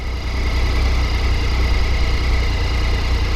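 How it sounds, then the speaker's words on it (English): A Triumph Tiger 800 motorcycle idles through its standard exhaust can, giving a steady, close, rumbling gurgle with a constant low throb and no break. "It's a standard can. Well, that's actually got quite a nice gurgle to it."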